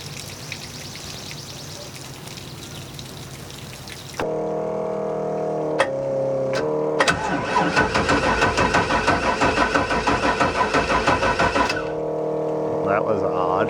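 A race boat engine cranks and catches after the fuel is switched on, a loud mid-pitched rumble that settles into a rough, pulsing idle before cutting back to a lower drone.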